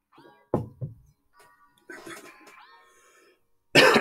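A few short, harsh coughs and throat-clearing bursts, close up, separated by quiet gaps, with a loud final cough burst at the end.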